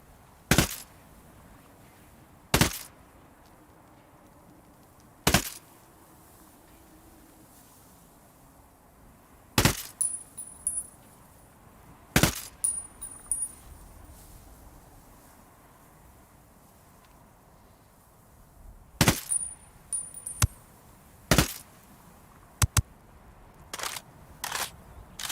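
Sharp isolated gunshots ring out from the video game Ghost Recon Wildlands, single loud cracks spaced several seconds apart with a few closer pairs near the end, over a quiet ambient background.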